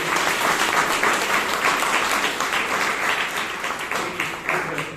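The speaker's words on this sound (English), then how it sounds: "Let's all give another round of applause for those brave women" Steady applause from a crowd at a Toastmasters meeting in Bangalore, many hands clapping together in a dense, continuous patter.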